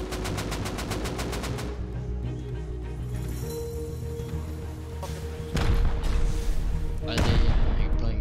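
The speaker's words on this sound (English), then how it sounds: "We're getting pounded by so much rockets." Rapid gunfire and rocket blasts in the Rust video game around an oil rig, with a fast repeating burst at the start, then a droning hum and heavy booming impacts toward the end.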